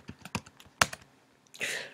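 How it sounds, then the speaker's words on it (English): Keys on a computer keyboard are tapped in an irregular burst of close, crisp clicks, ending with a longer rustling sweep. "And we're going to click and just type straight away."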